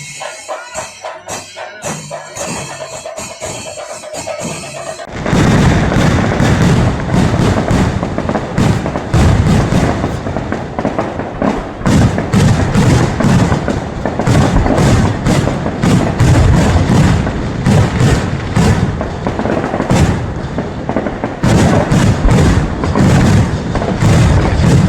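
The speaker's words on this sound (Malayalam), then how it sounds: "ഓരോ ദിവസങ്ങളിലും ക്ഷേത്രത്തിൽ വെടിക്കെട്ട് നടന്നിട്ടുണ്ട്" Dense, rapid fireworks blasts at the Cherukunnu Annapoorneshwari temple festival, with loud booms and crackling bursts running almost continuously after a few seconds of quieter festival music at the start.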